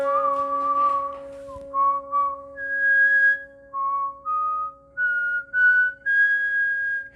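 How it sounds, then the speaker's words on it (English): A single person whistles a short sequence of clear sustained pitches, starting on the tonic of a scale and then moving to the fifth degree, in a music lesson setting; the notes are separated by brief pauses, close and moderately loud. "The tonic, I whistled first, and then the 5th degree of the scale."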